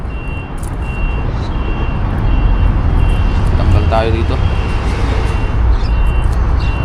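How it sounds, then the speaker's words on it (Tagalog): Loud, constant roar of heavy traffic on a nearby expressway with trucks rumbling past and a reversing beep, while someone talks over the noise. "malapit po tayo sa expressway kaya marami kayong naririnig na sasakyan"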